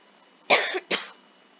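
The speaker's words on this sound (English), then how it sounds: "This cough's really driving me mad now." Two quick, harsh coughs from one person, close to the microphone, the first slightly longer, separated by a brief pause against near silence.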